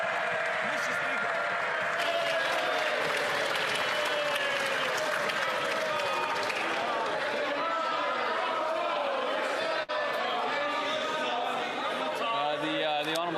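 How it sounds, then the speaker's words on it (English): Members of a parliamentary chamber during Question Period applaud in a sustained, dense wash of clapping mixed with desk-thumping and murmuring, and voices call out in the room near the end. "they're going to regret their applause in a moment, I can assure you"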